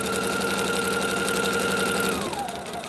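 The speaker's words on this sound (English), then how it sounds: "I'm going to go into position and start sewing." A sewing machine stitches steadily through a paper-pieced quilt block, a fast even mechanical whirr with rapid regular needle strokes that runs continuously, then slows and winds down near the end. No one speaks.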